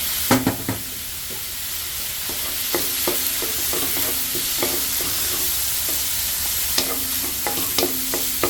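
Ground pork stir-fried with a dash of black soy sauce for a pork and bitter melon stir fry: a steady sizzle runs under repeated sharp scrapes and clacks of a utensil against the wok, and no voices are heard.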